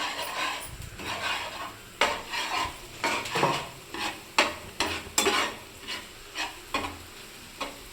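A spatula chops an omelette into pieces in a hot pan, giving a run of sharp scraping taps over a soft sizzle. The strikes come close and roughly rhythmic, about a dozen in a few seconds, with no voices.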